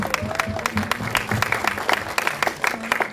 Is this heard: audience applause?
yes